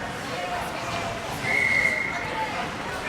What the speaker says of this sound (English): And we have a whistle.